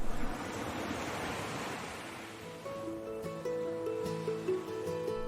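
Sea waves wash and roar in a broad, steady rush that slowly ebbs, then gives way to sustained musical tones layered over the fading surf.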